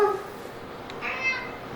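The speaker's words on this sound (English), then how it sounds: "Look at that pretty kitty." A single drawn-out meow from a nearby cat, heard close and clear, rising and falling over about a second in a quiet indoor setting.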